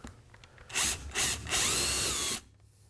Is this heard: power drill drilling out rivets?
yes